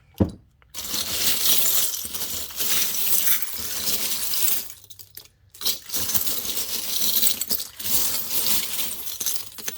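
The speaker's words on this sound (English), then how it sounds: "I'm just gonna get a little bowl full of charms to go with it" Small metal pieces pour and clatter into a bowl in a long, bright jingling cascade, with a brief pause before the pouring resumes.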